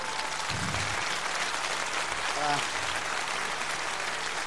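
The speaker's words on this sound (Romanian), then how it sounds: "Mă bucur că o aplaudați cu atâta căldură pe maestru Zamfir, pentru că merită." A concert hall audience at a Gheorghe Zamfir performance applauds continuously, a dense, steady wash of clapping with brief voices and a few whistles rising over it.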